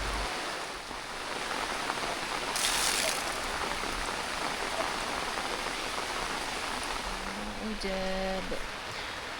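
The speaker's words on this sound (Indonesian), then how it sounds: "Ketika menjelang sore, hujan turun dengan deras nih teman-teman." Heavy rain pours down on a family campsite in the late afternoon, a dense, constant hiss that stays steady throughout, with a brief tonal chime near the end.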